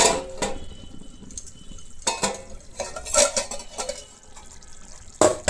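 A lid set onto a cooking pot of village-style hand-mixed fish over a low flame. Several sharp metallic clanks and clatters ring out close by, spaced apart against a quiet kitchen background.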